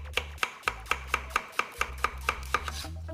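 A knife chopping red onion on a board, about a dozen crisp, evenly spaced strokes in quick steady rhythm, close and clear with nobody speaking.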